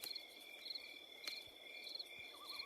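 Crickets chirp steadily in a high, continuous trill with pulsing repetitions, close and clear against a quiet night.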